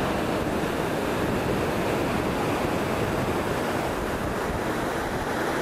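The Cachoeira da Torre waterfall in São Bernardo do Campo plunges into a large pool below, producing a steady, loud, unbroken roar of rushing water with no voices.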